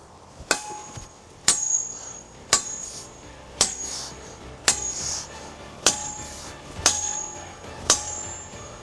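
A Glamdring replica sword strikes against steel eight times at an even pace of about one blow per second, each a sharp ringing clang that decays quickly, close and alone.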